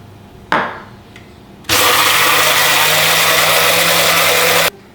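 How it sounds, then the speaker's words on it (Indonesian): An electric kitchen blender whirs at full speed through bananas mixed with sugar and a little water, a loud constant roar lasting about three seconds that cuts off abruptly, preceded by a brief clatter of handling. "Dan pisangnya kita blender deh. Pisangnya di blender"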